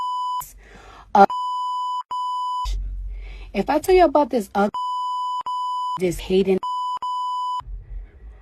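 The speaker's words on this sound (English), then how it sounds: "Listen to how many beeps there are just in the first 10 seconds" A person talks while a steady high-pitched bleep repeatedly cuts in over the words, censoring parts of the speech.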